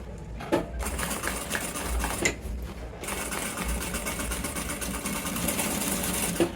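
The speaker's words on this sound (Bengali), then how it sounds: "এই একটা সেলাই দিয়েছি এখন আমি আরেকটা সেলাই দেবো" Sewing machine stitching a double seam along the waist joint of a pair of trousers, a steady close mechanical whir with brief pauses between runs.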